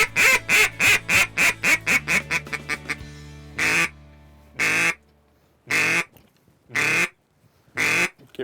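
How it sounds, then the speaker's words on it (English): Ducks on a Texas stock tank quacking loudly and close, a rapid string of about a dozen quacks followed by slower, spaced calls. "Here's ducks right here."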